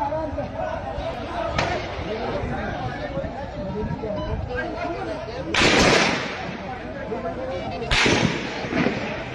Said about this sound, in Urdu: اس وقت شدید ترین فائرنگ ہو رہی ہے